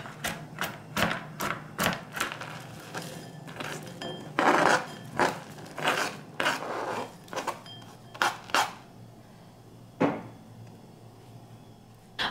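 Dry biscuits and walnuts are coarsely chopped with a knife on a board in a series of close, sharp thuds and crunches, loud and irregular, with brief pauses and no voices.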